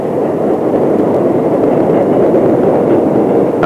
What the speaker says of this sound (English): This number 6 train will be going to Woodlawn and Jerome.